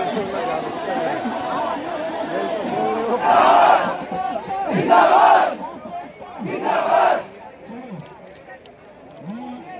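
A large student protest rally at Eco Garden in Lucknow, with a crowd roaring and chanting in loud repeated surges over a constant babble of many voices.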